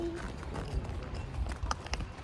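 Horse hooves clip-clopping at Pahalgam, a string of soft dull hoof thuds in an uneven walking rhythm under a broad outdoor rumble, with faint voices in the background.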